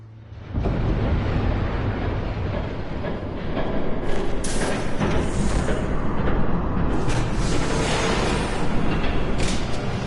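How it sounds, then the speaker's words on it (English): Train approaching and passing in a Batman video game, a heavy sustained rumble that builds and grows louder, with rattling bursts and no talk. "There's a train coming. Take cover."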